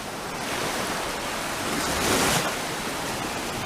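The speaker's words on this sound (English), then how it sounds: "Doesn't that sea sound lovely this morning?" Ocean surf at Smitons Bay rolls in as a steady broad rush, swelling louder as a wave breaks midway before settling back to a constant roar.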